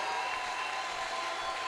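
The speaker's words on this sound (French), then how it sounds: "Prends ton temps, acclame le Seigneur pour la vie" A church congregation claps and acclaims during a Sunday worship service, a continuous wash of applause heard at a distance with a faint steady tone beneath.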